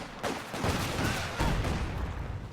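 A Company of Heroes 2 two-versus-two match fills with dense gunfire, with sniper shots cracking among rattling small-arms bursts and heavier booms in a loud, continuous battle.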